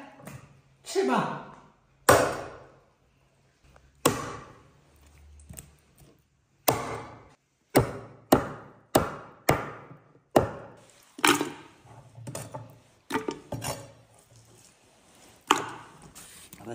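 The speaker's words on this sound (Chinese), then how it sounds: "头角砍下来，翅膀" A cleaver chops a whole farm-raised duck apart, removing head and wings, with about a dozen sharp separate thuds spaced a second or so apart, interleaved with someone speaking between strikes.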